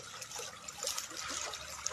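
Water runs into a rice paddy during the rainy season, a faint, continuous trickling and splashing close by, alone without voices.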